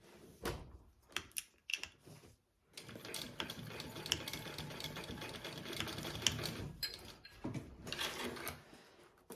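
A sewing machine stitches a tiny 1/8 inch seam about an inch across the top of a garment, its motor whirring in steady bursts with short pauses between runs.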